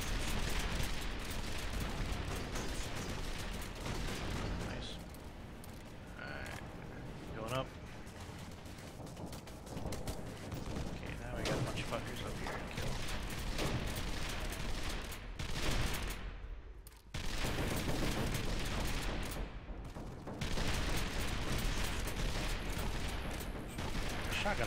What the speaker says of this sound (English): Shotgun works a lot better when I'm not lagging.